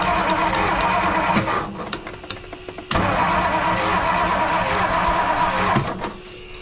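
A 1957 Ford Fairlane 500 engine cranks with a loud, steady starter churn, pauses briefly, then cranks hard again in two long attempts.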